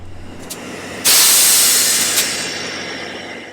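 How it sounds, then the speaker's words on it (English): Near a diesel train engine, a sudden loud burst of hissing air begins after a second of quiet idling, then slowly fades over the following seconds. "It's a diesel train, not a steam train."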